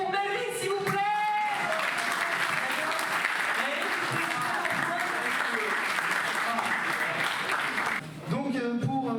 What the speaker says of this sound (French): Donc Melvin, un applaudissement pour Melvin, s'il vous plaît.